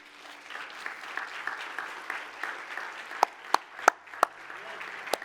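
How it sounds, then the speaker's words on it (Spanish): A church congregation applauds in praise of God during a Spanish-language worship service, producing a steady, fairly faint patter of clapping with a few sharper, louder claps standing out near the end. "Vamos a darle un aplauso a nuestro Dios."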